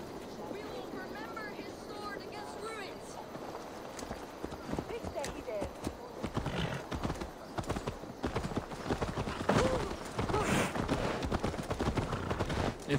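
Horse hooves clip-clop at a steady riding rhythm in Assassin's Creed Valhalla, running throughout, moderately loud, with characters' voices talking over them.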